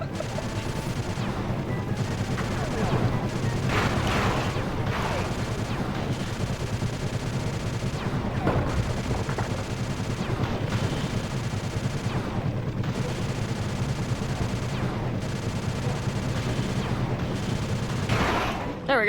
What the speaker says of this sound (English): Shooting, Bentley.